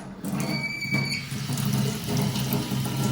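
A kitchen tap running during a final house inspection: a close, steady gush of water splashing into a sink, continuous for about three seconds after a brief squeak as the tap opens.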